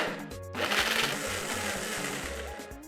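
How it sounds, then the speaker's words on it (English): A blender grinds frozen strawberries, a loud, steady whirring roar with a low motor hum that swells briefly near the start and keeps running for about three seconds. "next I'm going to be adding frozen strawberry into the blender."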